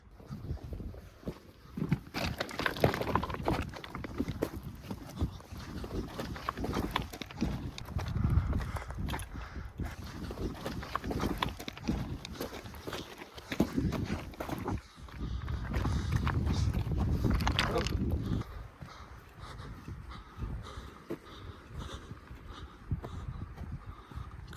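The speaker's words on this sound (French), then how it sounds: "Il y a des chevaux." Several horses walk along, their hooves clip-clopping in an irregular, overlapping rhythm close by, with shifting intensity and a louder stretch of clatter in the middle.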